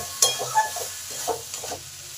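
Spices are being sautéed in a wok with a little sugar, sizzling under the sound of a spatula scraping and stirring, with sharp clinks at intervals against a low background hum.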